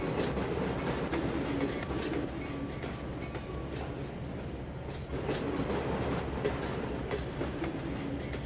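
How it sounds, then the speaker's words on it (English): BNSF grain hopper cars rolling past in the Trainz 2022 simulator, a continuous rumbling roar with steady clickety-clack of wheels on rail joints, sustained and fairly close, with no talk. "watch this wonderful parade of BNSF grain hoppers go by us"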